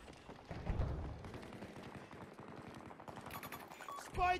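Portable Vulcan minigun fire in the video game Battlefield 2042, a rapid continuous rattling burst of shots heard faintly at a distance, ending in a louder thump.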